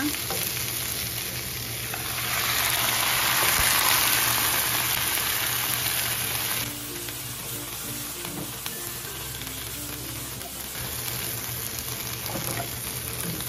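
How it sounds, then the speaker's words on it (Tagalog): Broccoli and carrots stirred with sauce in a hot pan for a meatless Chinese-style vegetable dish, a continuous close sizzle that swells louder for a few seconds, then settles into a steadier hiss. "Halu-haluin lang natin guys para maluto yung ating broccoli saka yung carrots natin."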